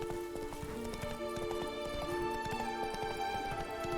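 Hooves of Roach, the horse in The Witcher 3, clip-clop in a fast steady gallop over a constant game music bed, close and prominent without speech.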